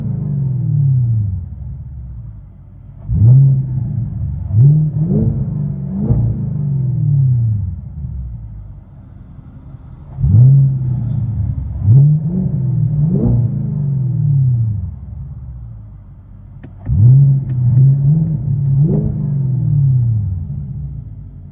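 A 2023 Chevy Camaro SS with a 6.2L V8 and Magnaflow Magnapack exhaust revs in three loud bursts, each a sharp climb in pitch and then a falling burble, with an idle rumble in between.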